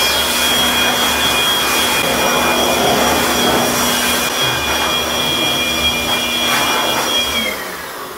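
An air blower drying air conditioner parts after pressure washing, a loud, steady high-pitched roaring whoosh with a faint whine that holds for about seven seconds before winding down, close with no talking.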